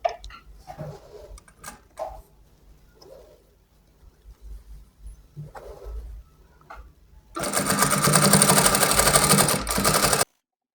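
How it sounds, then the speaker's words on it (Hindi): Sewing machine stitching along the edges of trouser fabric, a loud steady run of rapid stitches that starts after quiet handling noises and continues for a few seconds alone. "किनारे किनारे पे रख के हम इसकी सिलाई लगाएंगे।"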